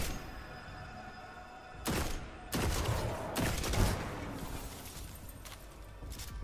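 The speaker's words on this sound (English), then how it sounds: "Are you using a hand cannon?" Hand cannon fire in the Destiny 2 video game: several sharp, booming shots spaced irregularly over a low background rumble, fairly loud and close, with no talk.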